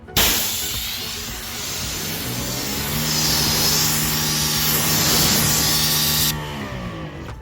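Pressurised water hissing steadily as a car panel is rinsed during clay-towel detailing, a broad close spray lasting about six seconds before cutting off, with no talk.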